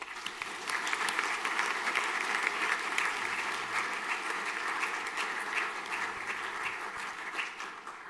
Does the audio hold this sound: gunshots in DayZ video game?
no